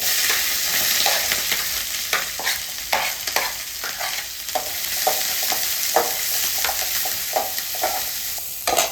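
Onion and green chili hitting a tempering of popped mustard seeds and urad dal, a steady crackling sizzle with repeated scraping stirs of a spatula, close and continuous with no voices.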